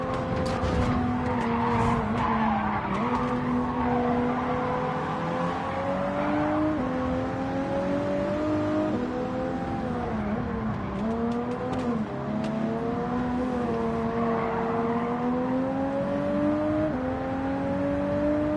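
A Toyota Supra racing in Gran Turismo 7, its engine holding a sustained droning whine that rises and dips with the revs, mixed with tire squeal and skidding, steady and loud throughout with no talking.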